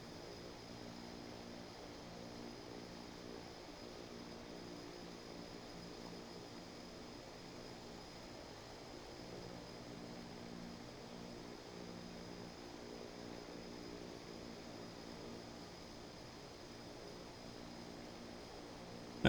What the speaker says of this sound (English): Ethiopian 227 is taking off runway 25 left, departing north.